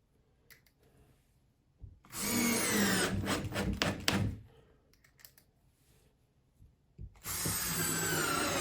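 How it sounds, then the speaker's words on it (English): A power drill drives a screw through drywall into a wooden backing block, in two loud bursts of whirring and grinding, the first about two seconds long and the second starting near the end, with quiet pauses between. "Now I'll just screw right into the block that I put behind the wall."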